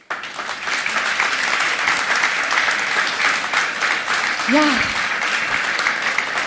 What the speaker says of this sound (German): die vier haben sich einen richtig fetten Applaus verdient